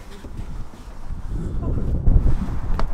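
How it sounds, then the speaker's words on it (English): Strong gusts buffet the microphone outdoors on a windy ridge above lakes near Tampere, Finland, a loud, continuous low rumble that swells and peaks toward the end. "Oh, it's so windy."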